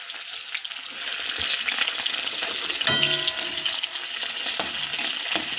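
Nigella seeds and chopped onion fry steadily in a pan, a constant close sizzle with a few brief clanks and stirring scrapes and no voices.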